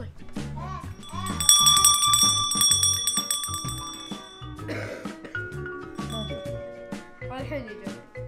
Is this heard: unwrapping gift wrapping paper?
no